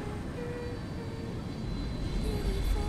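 Video game airplane engine from Metal Gear Solid 4: a steady, dense droning roar that swells slightly louder toward the end, with no voices.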